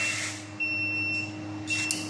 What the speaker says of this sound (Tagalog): Yun, nag-alarm. Low level.